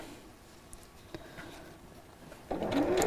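After a quiet pause with a few small clicks, a sewing machine starts up and hums along close by, stitching a line on fabric near a crease.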